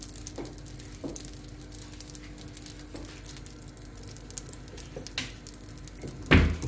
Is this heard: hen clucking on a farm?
no